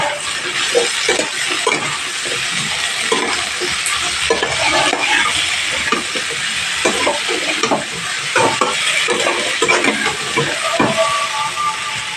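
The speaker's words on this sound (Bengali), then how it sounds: "আলুর সাথে রসুনটাও ভাজা হয়ে যাবে" Potatoes and garlic frying in a pan for aloo chorchori, a steady hissing sizzle with repeated scraping strokes of stirring throughout and no talk.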